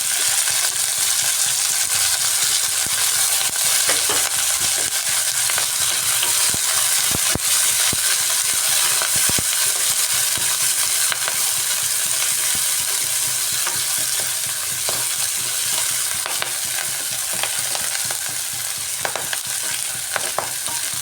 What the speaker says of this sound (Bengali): পেঁয়াজ কলিটা দিয়েও কিছুক্ষণ আমি ভেজে নিচ্ছি